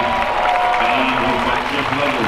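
A crowd applauds after a parent-and-child underhand and standing block woodchopping relay. The clapping is brief, close and steady, with a few voices mixed in.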